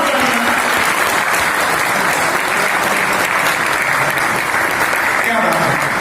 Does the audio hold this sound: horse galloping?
no